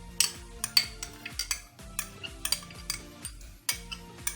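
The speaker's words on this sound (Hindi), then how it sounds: "और ये पहले अच्छे से मिक्स कर लेंगे" A spoon mixing thick strained yogurt and heavy cream in a bowl for a chicken malai boti marinade, with rhythmic clinks and scrapes against the bowl in quick bursts and no voices.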